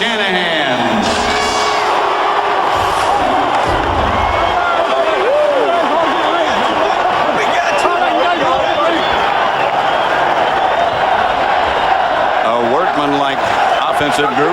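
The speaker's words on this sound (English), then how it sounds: "it was interesting to listen to the crowd" Stadium crowd at Super Bowl XXXIII, Falcons versus Broncos, a loud roaring mass of cheers, whoops and yells swelling and surging throughout, with voices rising above the din.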